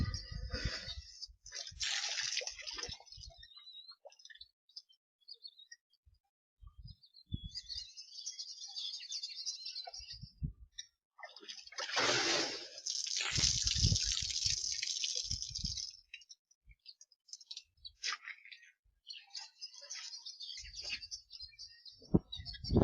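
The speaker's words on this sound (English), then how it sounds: "Couple of laughing doves in the bird bath" Laughing doves at a garden bird bath, with soft chirps and calls mixed with splashing and dripping water from bathing, intermittent and close, with quiet stretches between bursts.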